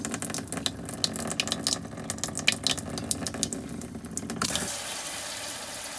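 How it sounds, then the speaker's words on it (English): A touch-sensitive tap in a camper van runs water into a sink, a steady close splashing hiss with a pump whirring under it, and the flow changes character partway through. "this tap it's touch sensitive. Touch him on and off"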